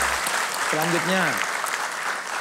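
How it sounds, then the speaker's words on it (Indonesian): A studio audience at a television talk show claps in a steady wash of applause throughout, while a host's voice briefly speaks over it. "Tepuk tangan"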